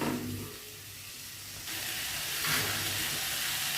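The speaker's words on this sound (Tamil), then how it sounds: "2 நிமிஷம் இந்த மசாலாவிலே நல்லா கிண்டி விட்டுட்டு" Cauliflower stirred and frying in a masala, giving a steady close sizzle and hiss that swells slightly partway through, with no voices.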